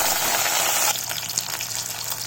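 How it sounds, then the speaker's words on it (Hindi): Capsicum is frying in hot oil with a steady, loud sizzle that hisses hard at first, then settles into a softer crackle with small pops as the pieces cook. "अब इस ऑयल में हम शिमला मिर्च डालेंगे।"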